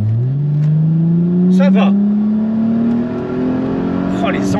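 A German sports coupe's automatic gearbox kicks down under hard acceleration: a loud engine note climbs steadily in pitch as the car pulls, heard close from inside, with a brief spoken remark.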